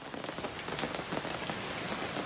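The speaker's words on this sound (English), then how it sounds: "even though it's pouring rain" Heavy rain pouring outdoors at a winter campsite in the coastal forest, a dense steady hiss of drops drumming on surfaces, loud and unbroken with no voices.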